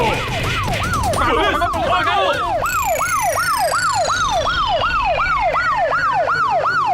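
A voice imitating a siren gives a loud wail that rises and falls rapidly in a steady cycle, with a thinner high tone sliding downward over it partway through.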